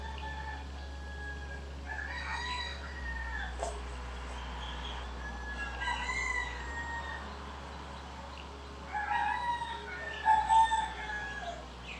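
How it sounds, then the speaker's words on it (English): Several roosters crow repeatedly at varying distances, some faint and far off, one louder and closer near the end, over a quiet outdoor background. "We're up with these roosters right now?"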